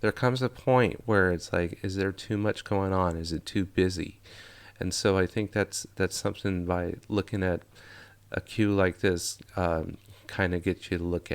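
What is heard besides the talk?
No everyday noises stand out.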